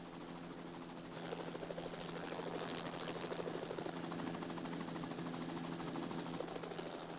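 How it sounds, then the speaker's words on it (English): A helicopter's rotor thrums steadily and loudly throughout over a film set, with a dense whooshing roar and rhythmic blade chop that swells slightly after the first second. "Wind draft from the helicopter just pushing the set around"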